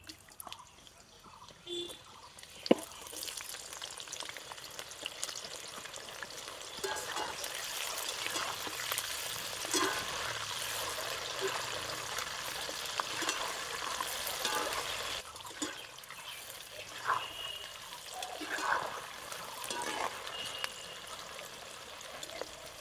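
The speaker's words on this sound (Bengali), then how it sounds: "এই তেলে পেঁয়াজ ও ক্যাপসিকাম গুলোকে হালকা একটু ভেজে নেব" Onion and capsicum frying lightly in oil in a kadai, a steady broadband sizzle with faint drips and crackles running throughout, loud and close with a sharp tap near the start.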